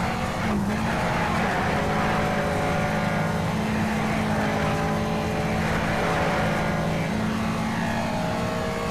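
A race car engine in the video game Need for Speed Shift drones steadily at high revs, rising in pitch as it accelerates, loud and continuous with no talk over it.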